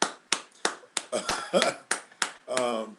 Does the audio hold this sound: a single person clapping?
yes